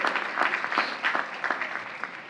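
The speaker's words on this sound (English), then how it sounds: "give a big round of applause to our building and ground staff" At a Queens College commencement ceremony, the crowd applauds for the building and grounds staff, with individual claps audible in a moderately sized burst that gradually fades.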